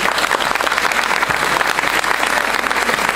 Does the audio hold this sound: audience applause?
yes